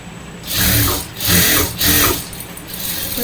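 A sewing machine stitches hijab fabric in two close bursts of steady whirring, each about a second long, followed by a fainter, brief run.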